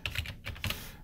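Keys clack on a computer keyboard as a Linux terminal command is entered, a quick close run of a dozen or so taps in two bursts with a short pause between, heard alone.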